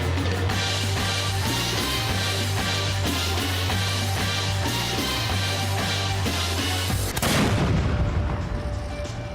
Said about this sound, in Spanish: Suenan cañonazos antes de la conmemoración de la batalla de Boyacá.